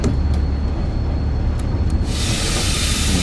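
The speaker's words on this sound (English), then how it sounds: "I am going to use the train brake this time" A train's brakes being applied in Train Sim World on the Crompton to Minehead run: a steady low rumble, then a loud, broad rush of air hiss that comes in suddenly partway through and holds.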